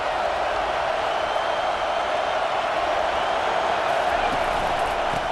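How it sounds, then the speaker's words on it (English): Stadium crowd in EA Sports College Football 25 roars steadily at an Alabama versus Oklahoma game, a dense, even wash of noise that holds at a constant level throughout. "This crowd bringing the energy and noise early"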